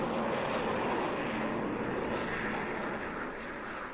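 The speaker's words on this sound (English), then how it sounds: "I never saw a plane of such size, and yet it seems vaguely familiar" A large aircraft flying low overhead, used as a radio drama effect, makes a dense, loud, sustained engine roar that holds steady and eases slightly toward the end, with no voices over it.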